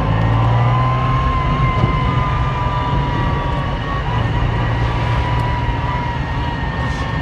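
Ferrari Dino GT engine pulling while driving, a continuous mid-loud drone with steady low harmonics and road rumble heard from inside the car, with no talking.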